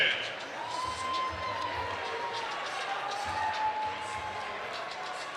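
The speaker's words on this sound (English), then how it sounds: "let's have a round of applause for these warriors" Crowd at a lightweight pro fight cheers and applauds steadily after a first-round knockout, a broad continuous roar throughout with an announcer's voice faintly on top.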